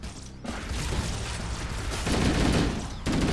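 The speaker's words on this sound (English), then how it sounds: "I opened fire." Dense, sustained gunfire in Halo, a loud continuous burst that swells for a few seconds, briefly cuts out, then resumes, with mechanical rattle mixed into the shooting.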